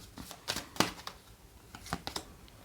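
Tarot cards being shuffled by hand: short, crisp riffling bursts in irregular clusters, close and fairly quiet, with no voice.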